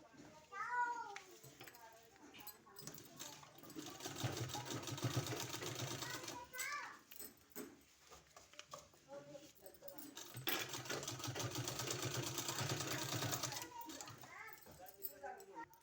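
A sewing machine stitches a strip onto a sleeve in two sustained runs of rapid motor buzz, with a voice speaking in the pauses before, between and after them.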